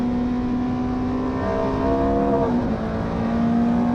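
Ferrari 430 GT3 Challenge race car engine pulling hard under acceleration on a track day, a loud, steady high-pitched drone with harmonics that climb and shift through a gear change midway.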